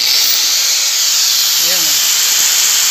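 A small backup power station hums with a steady, loud hiss and fan whir just after being switched on, continuous for the whole stretch, with a faint brief voice partway through.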